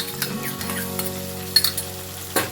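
Chicken and onions sizzle steadily in a pan with ginger garlic paste, a close, even frying hiss with a few light stirring clinks and scrapes near the end.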